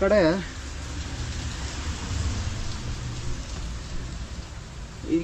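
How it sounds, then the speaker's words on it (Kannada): Steady rain pours down in a constant hiss outside a cave at Kukke Subrahmanya, with a brief voice heard at the very start and again at the end. "ಮಳೆ ಬೇರೆ ಬರ್ತಿದೆ"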